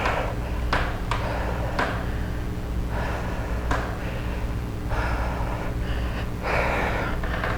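During a TRX suspension-training workout, a person takes deep breaths in and forceful exhales out, several audible airy breaths and puffs over a steady background hum, close to the microphone, without speech.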